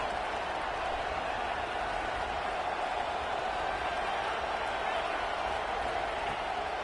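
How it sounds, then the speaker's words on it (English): Stadium crowd at a Texas Tech football game on third down, a dense continuous roar of many voices, steady and loud for the whole stretch with no clear breaks. "Guns up, and so is the noise. The crowd electric, trying to help Tech on this 3rd down."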